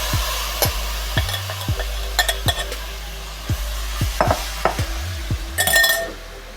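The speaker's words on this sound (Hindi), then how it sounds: "एक पैन लेंगे और इसमें ये सारा मसाला डाल देंगे। ये बोटियां डाल देंगे पकने के लिए" Beef boti pieces and masala stirred in a pan over a flame, with repeated scraping strokes and soft clinks of a utensil against the pan over a low steady sizzle, fairly close.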